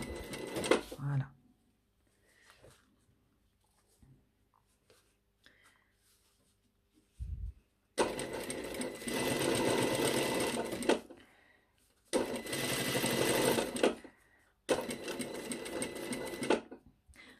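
Sewing machine stitching a seam in fabric about a centimetre from the edge on a top, running in three loud, steady bursts separated by short pauses, after a quiet start with faint handling noises.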